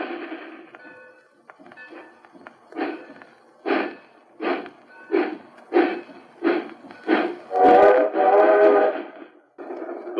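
A Lionel toy train clatters along its track in a steady rhythm of pulsing bursts, building to a louder, tonal stretch near the end.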